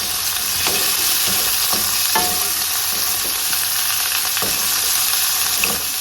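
Asparagus sautéed in a pan sizzles loudly and steadily, with a series of scraping stirs and utensil taps against the pan repeating every second or so, close up and without talk.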